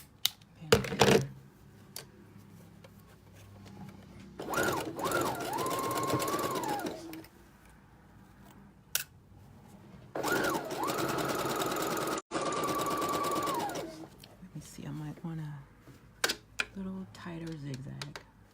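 A sewing machine stitches a zigzag seam on a plain t-shirt, starting at the side seam, in two bursts of steady rapid whirring of a few seconds each, close by, with a person talking before, between and after them.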